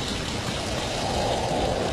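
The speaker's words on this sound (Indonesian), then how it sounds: "Hujan? Benar, kelihatannya semakin deras." Heavy rain pours down in a steady, dense hiss, loud and unbroken throughout the short stretch with no talk.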